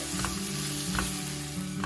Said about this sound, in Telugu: టమాటా సాఫ్ట్గా అయ్యే వరకు వేయించుకోవాలి.